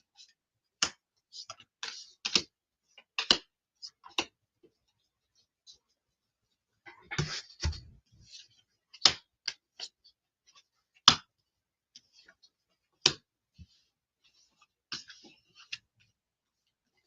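Tarot cards thrown down one after another during a reading, a series of sharp slapping taps and flicks at irregular intervals, close and crisp, with a brief rustling shuffle partway through and near silence between.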